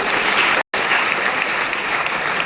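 An audience claps steadily at a quiz-style gathering, dense continuous applause that drops out for a brief instant before resuming at the same strength.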